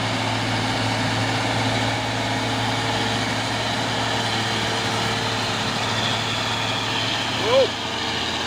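An orange Fuso 6x4 tronton heavy-duty truck idles with a steady, low diesel drone held at constant volume throughout, with a short rising tonal squeal near the end.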